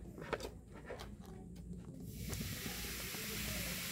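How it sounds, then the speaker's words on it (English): Water fizzing and hissing steadily, a bubbling carbonated sound that grows louder and broader halfway through, close by with no voices. "Guys, it's literally bubbling."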